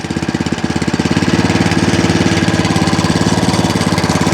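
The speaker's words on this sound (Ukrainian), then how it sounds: "Дуже приємно працює двигун. Додам трохи обертів." A WEIMA WM900M-3 walk-behind tractor's small engine runs close and loud, its rapid pulsing chug picking up speed as the revs rise after about a second, then holding steady and alone.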